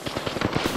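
Rapid automatic gunfire from Apex Legends, a close, loud string of evenly spaced bursts firing nonstop with no talking.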